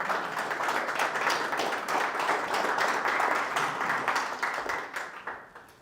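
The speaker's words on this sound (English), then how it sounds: "I thought that was it, the applause" A dense, sustained round of audience applause at a live event, fairly loud and constant before tapering off in the last second.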